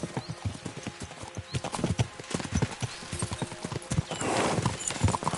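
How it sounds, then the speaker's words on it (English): Horses galloping in the medieval game Kingdom Come: Deliverance 2, a steady run of clip-clop hoofbeats close by with an occasional whinny, continuing throughout with no talking. "We should spur the horses on."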